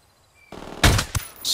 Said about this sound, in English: They're having a major shootout right now